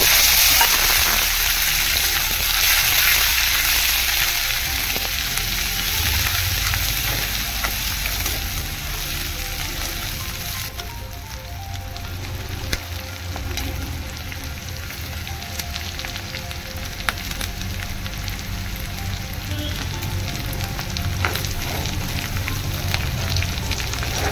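Crushed garlic and green chilli frying in hot oil with cumin and popped mustard seeds for karela bhaji, a steady loud sizzle running throughout with occasional stirring and no talking.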